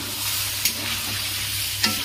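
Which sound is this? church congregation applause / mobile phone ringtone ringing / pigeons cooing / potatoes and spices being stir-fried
potatoes and spices being stir-fried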